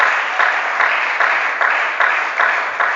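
A church congregation applauds loudly and steadily, the clapping pulsing in a regular rhythm throughout.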